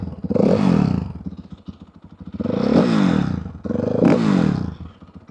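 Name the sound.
motorcycle engine revving with stock exhaust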